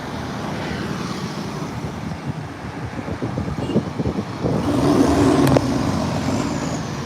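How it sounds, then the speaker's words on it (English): A loud garbage truck rumbles along a street in Kampot, Cambodia, its engine droning and swelling as it passes close by, with a sharp clank near the end. "I'm gonna wait for this truck. It's too loud."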